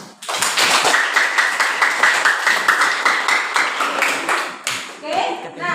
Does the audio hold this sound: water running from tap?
no